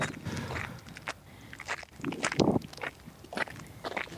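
Footsteps crunch over icy ground on a rural homestead on a winter morning, irregular crackling steps close by, with faint outdoor background and no talk.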